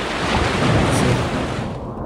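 Heavy sea waves roar and crash onto a Kerala shore during the monsoon, a loud continuous broadband rush that swells slightly in the middle and eases toward the end.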